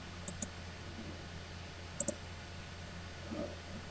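Computer mouse clicks on a Windows 10 PC come in two quick pairs, one early and one about halfway through, crisp and close over a faint steady hum.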